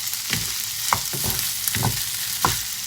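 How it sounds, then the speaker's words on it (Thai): Rice stir-fried with soy sauce and chili paste with fresh prawns in a pan, giving a steady close sizzle broken by repeated scraping strokes of the spatula, with no talk. "แล้วก็ผัดคลุกเคล้าให้เข้ากันนะคะ"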